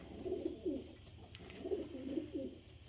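Soft, throaty cooing from a racing pigeon in a loft, several low rolling coos in two close bursts, fairly quiet and near, with faint background rustle.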